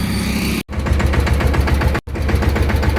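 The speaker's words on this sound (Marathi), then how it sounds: "केलं बघा ट्रॅक्टर धक्का स्टार्ट." A farm tractor's diesel engine being push-started, chugging in a loud, fast, even knock, cut off by two brief dropouts.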